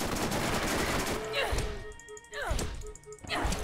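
Gunshots in the Borderlands shooter game during a fight with skags, sharp repeated bursts at the start followed by a few separate loud reports, mixed with game sounds and a talking voice.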